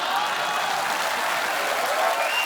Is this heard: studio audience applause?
yes